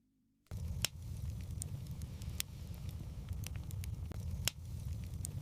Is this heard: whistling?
no